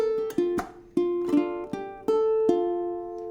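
Ukulele plucked and strummed through a simplified bar with a pull-off, several distinct ringing attacks in a loose rhythm, close and clear, notes sustaining between strikes with no voice.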